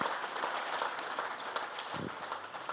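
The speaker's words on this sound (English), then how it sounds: "Let's give them all a nice round of applause and say thank you." Audience applause at a Limousin cattle sale, steady dense clapping from a crowd, moderately loud and continuous, with a brief low thump partway through.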